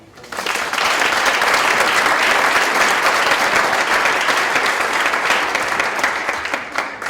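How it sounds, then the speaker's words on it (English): Sustained audience applause at a community choral arts event, loud and dense throughout after a quick swell at the start, with no talking. "So a round of applause for Joanna."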